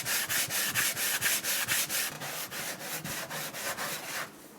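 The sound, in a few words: random orbital sander with worn 120 grit sanding wood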